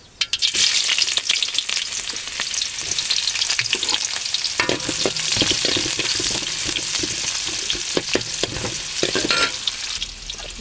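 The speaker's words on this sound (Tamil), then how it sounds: "பிறகு வெங்காயத்தை கொஞ்சம் நல்லா வதக்கிக்கணும்னா வதக்கிக்கிட்டேன்" Chopped onions sautéing in hot oil in a pan for a Tamil-style squid curry, a steady loud sizzle with frequent stirring scrapes and clinks throughout, no talking.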